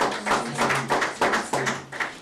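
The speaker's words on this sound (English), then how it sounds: "Siboniso Ngobo! Round of applause." Audience applause at a Kaizer Chiefs new player unveiling, greeting a young development defender: a brief, dense burst of many hands clapping in uneven waves, fairly close and loud with no talk over it.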